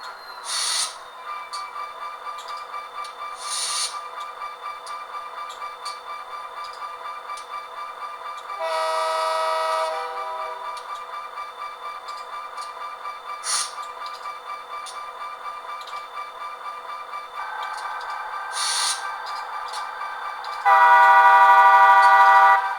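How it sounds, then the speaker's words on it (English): Sound from a model train locomotive decoder on a home layout plays steadily, with a continuous engine hum, repeated short whistle or horn blasts and louder tonal bursts near the end. "So there you go, you just got the Loc sound running right now."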